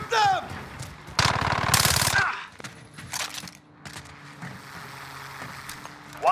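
Rapid automatic gunfire bursts loudly for about a second in a shooter video game, with a radio-style game voice and a brief shout around it, then quieter ambient game sounds follow.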